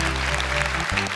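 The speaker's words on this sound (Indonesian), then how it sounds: "Boleh tepuk tangan untuk mereka berdua." Studio audience claps for two contestants on a televised Quran-memorization quiz show, steady applause over a low musical bed that drops out briefly near the end.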